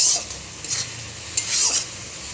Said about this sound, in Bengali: এবারে ভালো করে কষাবো